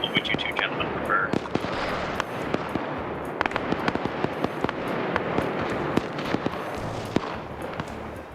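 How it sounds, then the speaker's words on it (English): Distant high-explosive shells burst repeatedly in a military shooter game, sharp irregular cracks and booms scattered over a dense continuous rumble of battle, with faint talk underneath. "I hear HE shells going off"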